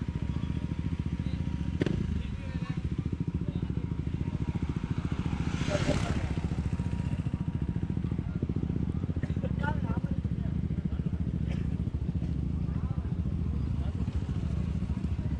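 Motorcycles on a group ride from Kandy to Nuwara Eliya, Pulsar and PCX among the bikes, hum steadily as engines drone on the move beneath continuous talk, with wind rush and a louder passing swell midway.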